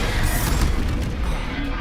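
A Confringo blasting-spell explosion goes off in Hogwarts Legacy as a loud, dense boom that fills the whole short moment with rumbling, crackling game combat noise.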